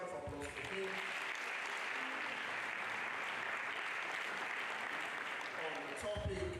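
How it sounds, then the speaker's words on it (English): Audience at a Nigerian university lecture on educational assessment breaks into sustained applause, a steady wash of clapping that holds loud and even for several seconds before tapering as a voice returns. "Please a round of applause for him."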